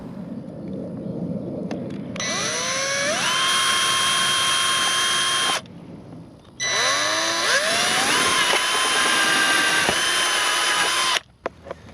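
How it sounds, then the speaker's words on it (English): A power drill fitted with a small bit spins up twice to bore a pilot hole while an LED light bar is being wired, each run a loud whining burst of several seconds with a rising start and a brief pause between. "I'm going to use a small bit to drill a pilot hole so the larger bit doesn't bounce around"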